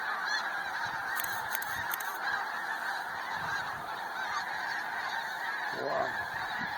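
Many geese over a reservoir honk together in a thick, unbroken chorus, the calls overlapping into a steady clamor from a flock nearby.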